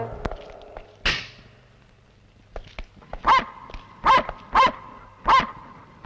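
Dog barking in a dramatic film scene: a series of about five sharp, loud barks in steady rhythm over the last three seconds, following a few scattered thuds and a brief whoosh, with low hum underneath.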